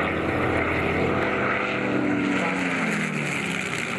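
A Spitfire's piston engine drones continuously and loudly with no speech, a steady propeller roar carrying across the full four seconds.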